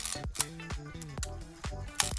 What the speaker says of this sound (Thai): ทีนี้มาเทสระบบชัตเตอร์กัน